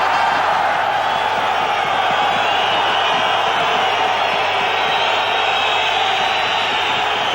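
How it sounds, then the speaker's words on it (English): A large stadium crowd at the 1991 Rugby World Cup match between France and Fiji roars and whistles, jeering the referee in a sustained, loud wash of voices, with no single speaker standing out. "The crowd is giving Derek Bevan a tough time here"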